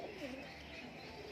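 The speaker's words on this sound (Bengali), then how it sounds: "আর পায়রাটা খুব বড় সাইজের পায়রা।" A large Murshidabadi giribaz pigeon with feathered feet coos softly, low rounded calls that are faint and close against a quiet background.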